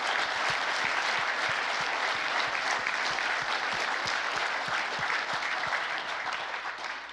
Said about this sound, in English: round of applause for Alexander Ritchie and Richard Over.